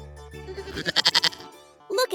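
A single goat on a farm lets out a loud, wavering bleat that pulses rapidly in the middle and then trails off, followed by a brief second cry.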